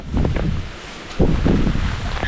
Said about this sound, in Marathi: कसला येतोय वारा माहिती आहे भयंकर एकदम